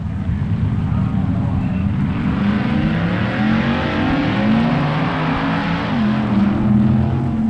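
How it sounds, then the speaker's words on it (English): Two 1964 drag racing cars, a Dodge and a Plymouth, run at the NHRA US Nationals. A loud, sustained engine roar holds steady and close throughout, with no break or voice over it. "The Candy Stripe Ram Chargers Dodge, driven by Jim Thornton, takes on Paul Russo's Plymouth."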